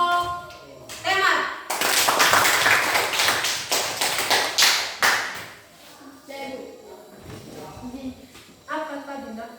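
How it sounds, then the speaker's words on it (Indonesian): A classroom of children claps together for a presenting group, several seconds of lively, uneven clapping framed by a teacher's voice and children talking before and after. "Baik, tepuk tangan untuk kelompok tema."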